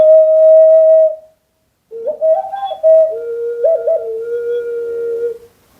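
A whistle blown twice: one steady held note, a pause, then a longer wavering tune with pitch bends and trills, loud and close.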